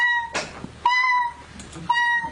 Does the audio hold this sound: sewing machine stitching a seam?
no